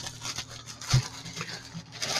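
Plastic bag crinkles and rustles in short bursts as RC car tires are pulled out, with one soft thump partway through, close by and fairly quiet.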